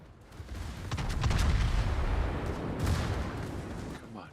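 Naval gunfire in the World of Warships video game: a sustained barrage of heavy, booming shots rolling together with sharp cracks, loud and continuous with brief talk beneath.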